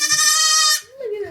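A goat bleats on a farm in one long, loud, wavering cry, followed by a second shorter, rising bleat.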